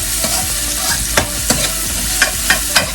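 Half a yellow onion sizzles steadily in a hot pan while a spoon scrapes through it, giving a constant fry hiss broken by several sharp stirring clacks at irregular intervals, close and loud with no talking.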